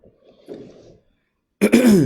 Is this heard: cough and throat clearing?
yes